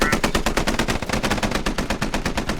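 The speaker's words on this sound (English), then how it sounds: "This platoon is under so much fire right now" Sustained automatic machine gun fire in the military shooter game Squad during a convoy ambush, rapid evenly spaced bursts hammering continuously and loud throughout with no pauses.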